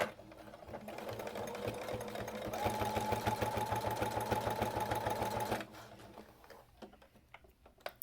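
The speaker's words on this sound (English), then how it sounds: "Sewing on vinyl is a pain" A sewing machine stitching a vinyl boot cover seam runs in a rapid, steady close chatter for about five seconds, then stops, leaving quiet handling noise.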